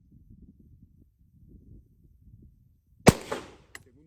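A single sharp shot from a Taurus TS9 pistol cracks out during shooting practice after a few seconds of quiet murmuring, followed by a brief echo and a faint click.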